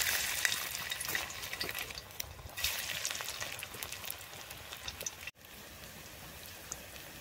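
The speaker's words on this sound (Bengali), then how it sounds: "আমাদের বড়া ভাজা হচ্ছে" Shrimp fritters made from small chopped prawns fry in hot oil, giving a steady crackling sizzle with brief spatters and a sharp break near the end, with no voices.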